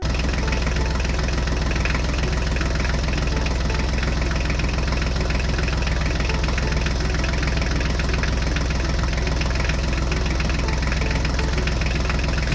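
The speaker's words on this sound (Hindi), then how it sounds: "हमारा महिंद्रा ट्रैक्टर तो निकल चुका है।" A Mahindra tractor engine runs continuously at a steady idle, a loud, even diesel rumble with a rhythmic knock and vibration and no pauses.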